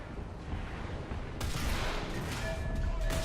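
French tank cannon firing at a Leopard tank in War Thunder, a sharp, loud report bursting in partway through and then rumbling on amid battle noise, with scattered distant gunfire after.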